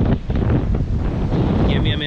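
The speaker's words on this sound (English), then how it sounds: "It's super windy." Strong wind buffets the microphone with a constant low roar and rumble, gusting throughout, outdoors while panning for gold.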